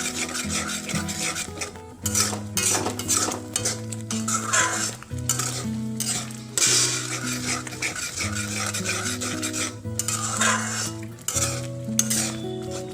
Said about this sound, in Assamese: আৰু কৰ্ণফ্ল'ৰ দিয়াৰ পিছত এনেদৰে এইখিনি ভালদৰে লৰাই থাকিব লাগিব